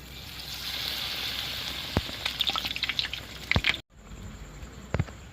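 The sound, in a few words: frying chicken sandwiches in oil in a pan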